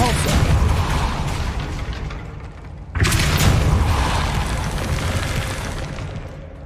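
In Hogwarts Legacy, the Depulso force spell is cast with a loud booming burst, a sustained rumbling blast that drops away and then surges again in a second heavy impact.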